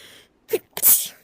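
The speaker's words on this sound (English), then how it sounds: "I'm sorry if I sneeze a lot." One close, forceful sneeze with a short sharp intake of breath just before it, loud and isolated against near silence.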